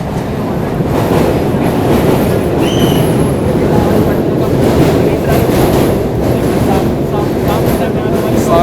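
A Poorvottar Sampark Kranti express rumbles across the rail-cum-road bridge at Patna, giving a steady, loud roar of wheels and carriages with faint clatter and a brief high squeal throughout.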